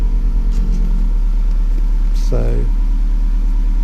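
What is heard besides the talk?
Audi RS3 five-cylinder engine and exhaust in comfort mode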